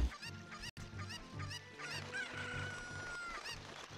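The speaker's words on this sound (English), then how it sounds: "Alright, I am taking the chicken with me. Alright, come on, Mr. Rooster." A rooster crows in the video game The Legend of Zelda: Ocarina of Time. A loud, drawn-out crow rises over a busy loop of game music and sound effects.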